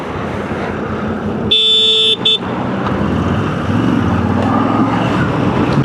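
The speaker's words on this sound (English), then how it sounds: "horn is a little lower than I was hoping" A steady, low-pitched electronic horn on a Moto Guzzi V7 Stone Corsa motorcycle blares for about half a second, cuts briefly, then sounds again over a continuous engine rumble and road noise.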